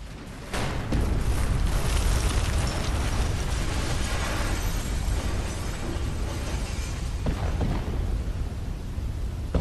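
A massive explosion in the video game Watch Dogs: a sudden loud blast followed by a sustained, dense roar and rumble that fills the scene, with a second burst of debris near the end and no talking.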